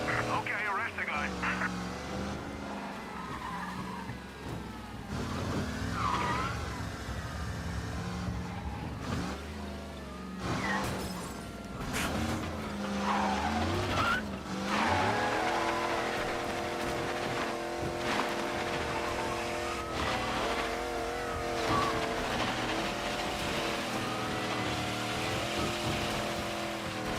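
A car in Mafia: Definitive Edition races too fast through Chinatown, its engine revving and surging steadily up and down in pitch throughout, with game voices heard at times.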